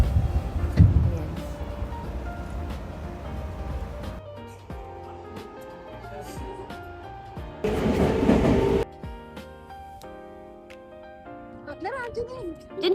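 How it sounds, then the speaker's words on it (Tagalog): Rumble and rattle of a packed train riding the rails in Tokyo, Japan, with people chatting nearby and a louder burst of rushing noise partway through. "sumakay kami ng train"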